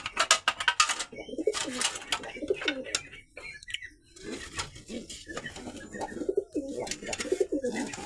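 White high-flyer pigeons, kept at home in a loft, coo loudly and close by in repeated throaty calls, with wing flutters and light pattering around them.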